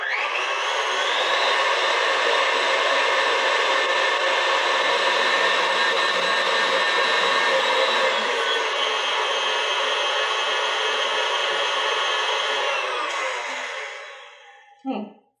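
An electric mixer whipping strawberry mousse mixture, a steady loud whirring drone that runs continuously for about thirteen seconds, then winds down and stops, followed by a brief clatter.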